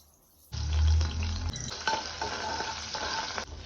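Chilli powder, garam masala and turmeric frying in a hot pan for mushroom sambar: after a brief quiet start, a loud, close sizzle bursts in with a low thud, then steady crackling hiss and stirring continue to the end, with no talking.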